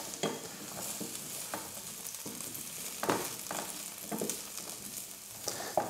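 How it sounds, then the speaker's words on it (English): Mushrooms frying in a pan for a bacon, cheese and spinach omelette, giving a steady close sizzle with intermittent scraping and stirring clatters as they are moved around, no talking. "fry up the mushrooms and stuff"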